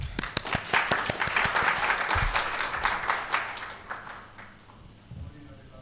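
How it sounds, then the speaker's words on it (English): Audience applause fills a symposium hall, a dense burst of clapping that starts at full strength and fades out after about four seconds, followed by a couple of soft bumps. "Let's give him a big round of applause."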